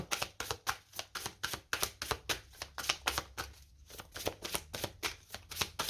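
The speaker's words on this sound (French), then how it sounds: "je vais mettre une dernière carte" Tarot cards are shuffled in a fast, even rhythm of crisp papery snaps, close and soft, repeating steadily for several seconds with no talk.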